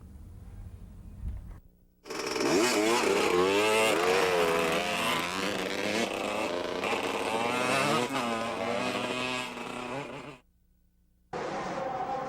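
Supercross motorcycles race at Anaheim in a professional heat, their engines roaring loud and sustained with rising and falling revs as bikes pass, dropping out briefly near the end before returning.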